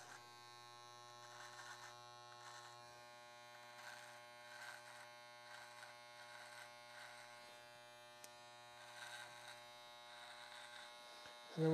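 Electric beard trimmer buzzing steadily while shaping a chin strap beard, a close, fairly quiet hum with a few small dips as the blade moves across the hair.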